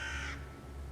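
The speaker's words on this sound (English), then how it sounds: "Well, a crow." A single brief crow caw, faint and distant, fading quickly over a low background hum.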